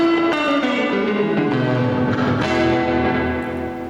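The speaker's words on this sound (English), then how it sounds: "now I've just applied the reverb effect" A short audio sample processed with a reverb effect using the Pedalboard library in Python rings out with sustained, bell-like tones that smear and wash together, as if played in a large, boomy hall. The sound is loud and steady throughout.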